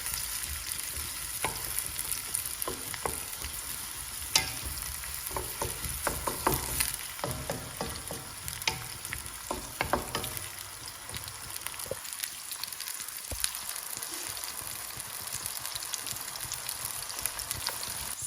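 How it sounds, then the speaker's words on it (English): Onions frying in a pan for lamb brain masala, a Kashmiri dish, give a steady dense sizzle with occasional stirring scrapes, close and continuous, with no talking. "So just fry these off for about 5 minutes when they're slightly golden brown."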